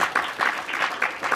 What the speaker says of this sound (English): we can start with another round of applause for what was a pretty amazing film there.